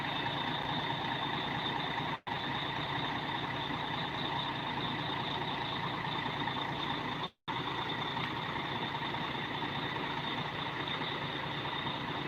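A Litha bus on a Mercedes-Benz OC 518/36 chassis with air suspension pulls up at a roadside kiosk, its engine a steady loud rumble. The noise runs continuously with two sharp breaks and no talk.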